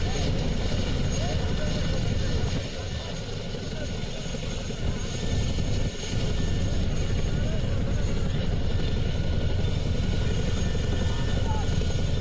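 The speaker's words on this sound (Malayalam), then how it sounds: "അത്രയും വലുതാണ് ചീനുക്ക് ഹെലികോപ്റ്റർ" A Chinook twin-rotor military helicopter of the Indian Air Force roars loudly and steadily, its deep engine drone and rotor thrum filling the whole stretch with a slight dip midway.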